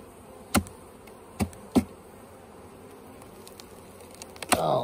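Honey bees hum at an open hive on an October day in south Alabama, a faint steady buzz broken by a few sharp knocks and clicks close by.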